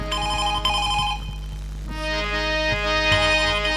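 A telephone ringtone rings loudly and steadily during a Chhattisgarhi nacha folk stage comedy performance, a bright repeating electronic melody carrying on over a low hum from the stage sound system.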